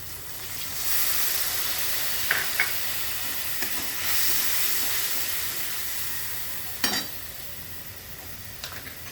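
Water poured into a hot pan of fish curry made with mustard and poppy seed sends up a broad steady hiss of steam and sizzle, with a few faint clinks and scrapes and no speech.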